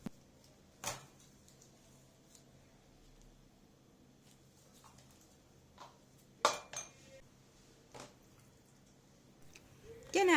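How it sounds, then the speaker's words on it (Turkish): Pickled tomatoes rested for hours being spooned into small glass jars in a kitchen: scattered sharp clinks and taps of glass and utensils, spaced irregularly over a quiet background. "şimdi kavanozlara doldurmaya başlıyorum"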